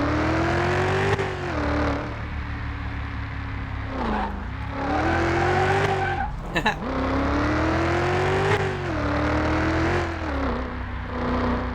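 Restored NextGen stock car with a superspeedway-style body lapping a short track, a loud steady engine drone that dips and rises with shifts and lifts, with brief tire noise and speech over it.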